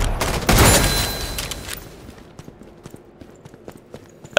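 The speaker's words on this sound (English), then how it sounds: "AK burst is the reason why." In the video game Killing Floor 2, a loud, dense burst of AK rifle fire rips for about a second and a half. It tails off into scattered lighter clicks and faint footsteps, and a sharp hit lands at the end.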